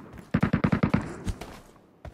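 Rapid burst of about seven close, punchy shots from the PUBG Mobile Metro Royale video game, followed by a couple of isolated single shots, with no talking over them.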